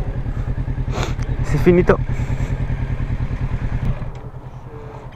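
A motorcycle on a training course slows to a stop during a riding lesson, its close engine pulsing at low revs. The engine note eases down near the end, with a brief clatter and someone speaking partway through.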